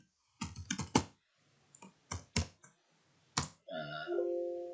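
Keys on a computer keyboard pressed in short clusters of clicks with pauses between them while entering an IF formula in Microsoft Excel, close and clear, ending with a short electronic tone.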